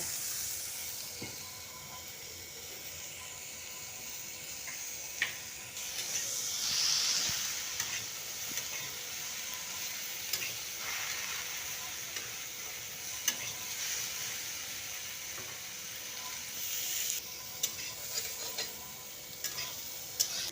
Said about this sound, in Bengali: তো এবার দিয়ে দিচ্ছি আমি আলুগুলো, এর মধ্যেই আলুগুলো দিয়ে দেবো, দিয়ে ভেজে নেবো